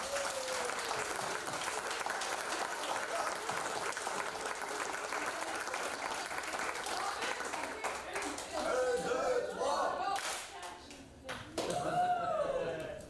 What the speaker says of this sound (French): J'aimerais les jeunes qu'on lui donne une bonne main d'applaudissements.